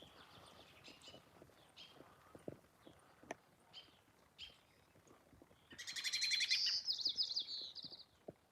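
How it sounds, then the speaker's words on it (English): Several birds sing outdoors under gloomy skies on Whidbey Island, Washington State, with scattered chirps and tweets early on, then a denser, louder burst of song in the second half. "Hope you guys are picking up on all the birds singing here."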